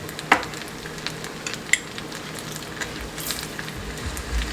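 Lemon juice sizzling with pasta in a hot pan, a soft continuous frying hiss with a couple of sharp utensil clicks, close and fairly quiet, no one talking.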